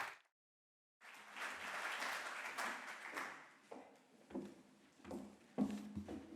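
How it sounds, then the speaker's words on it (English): Applause from a conference audience at a university anniversary event, beginning after a brief silence and carrying on at a steady moderate level for several seconds before thinning into scattered claps. "So give her a big applause."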